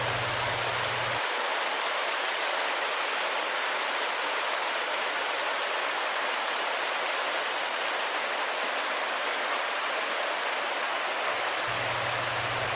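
Steady broadband rushing of flowing water, constant and fairly loud throughout, with no voices.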